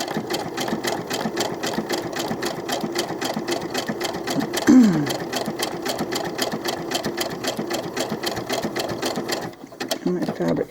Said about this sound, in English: this stitch will go a little slower because it's going back and forth